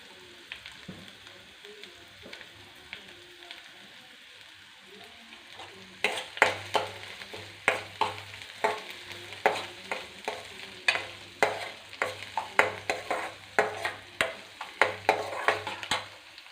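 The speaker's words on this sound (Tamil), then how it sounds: "ஸோ இப்போ ஆனியன் ஆட் பண்ணிட்டு மிக்ஸ் பண்ணிடலாம்." Chopped onions fry in a pan for egg kothu chappathi, at first a quiet sizzle, then rhythmic stirring with repeated scrapes and clatters against the pan over a steady hiss.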